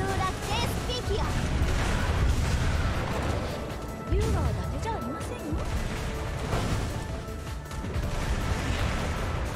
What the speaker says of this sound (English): Enterprise just causes literally everything to violently explode on screen.